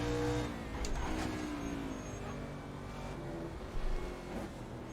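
A NASCAR race car engine in Assetto Corsa, on the Riverside circuit, revs and rises through the gears in close, busy bursts, with other cars nearby and brief sharp spikes as it pushes through the S-bends.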